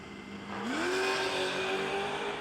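A 1967 Camaro drag car launching at a no-delay drag racing event, its engine note rising quickly and then holding a steady high roar, heard from a distance and fairly faint.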